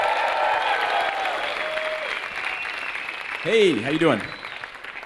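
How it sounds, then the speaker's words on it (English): Rock-star-style audience applause and cheering rolls through a tech talk venue, a steady crowd roar with a voice speaking over it near the end. "We do this rock star round of applause."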